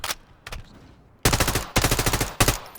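M4 rifle fire in Call of Duty MW3: a short burst, a single shot, then two long sustained automatic bursts, loud and close.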